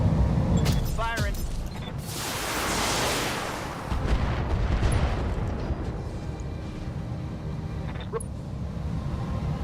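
Heavy mech weapons fire in a video game, a big booming blast that swells into a long rumbling roar with mechanical clanks, sustained and loud throughout.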